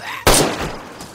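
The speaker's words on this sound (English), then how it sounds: "Yeah, I'm shooting." A single sharp gunshot from DayZ gameplay on PS5 cracks out loud and close, then decays into a lingering tail with a fainter echo shortly after.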